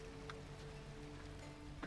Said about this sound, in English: Since it's raining today, you won't have to water your crops.